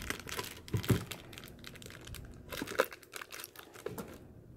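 Retail packaging for an Ozobot robot toy is opened by hand, producing close, irregular crinkling and rustling of plastic with a few sharper crackles, and no talking.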